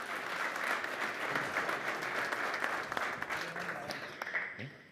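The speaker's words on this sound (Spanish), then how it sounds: "Le damos un aplauso de bienvenida" Audience applause welcoming speakers at a beekeeping nutrition talk, steady moderate clapping from a room of listeners that thins out near the end.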